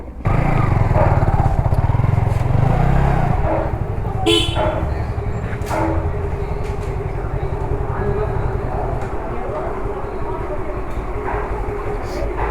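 Yamaha R15 motorcycle engine running at a service shop, a loud steady close mechanical drone throughout, with a brief horn-like toot and a voice talking over it partway.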